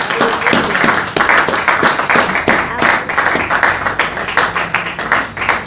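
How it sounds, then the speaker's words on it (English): A church congregation clapping their hands together during a sermon: fast, rhythmic, steady claps from many people, loud and close, with voices mixed in underneath. "Let us clap our hands for Jesus Christ."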